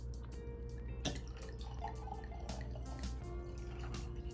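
Sparkling drink from Paris Baguette opened and poured into glasses, a fizzing, dripping trickle with small clinks, under a steady room background.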